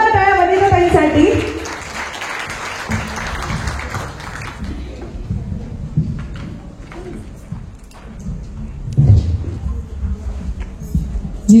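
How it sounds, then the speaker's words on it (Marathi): A conference audience applauds for Vanitatai, a burst of dense clapping at the start that fades within a few seconds, followed by a murmur of voices and shuffling in the hall. "जोरदार टाळ्या वनिताताईंसाठी"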